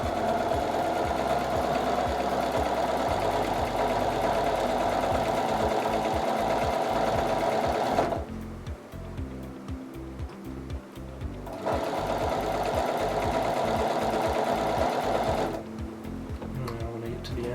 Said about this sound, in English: go back, stitch, and then 1/4 inch seam all the way.